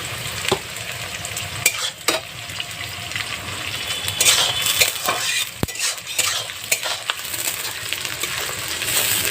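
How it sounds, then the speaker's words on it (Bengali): Onions with salt fry in a pan over a clay stove, a steady sizzle broken by repeated scraping and clinking strokes of a metal spoon as they are stirred, close and fairly loud with no talking. "পেঁয়াজের মধ্যে একটু লবণ দিয়ে দেবো, তাহলে তাড়াতাড়ি ভাজাও হয়ে যাবে"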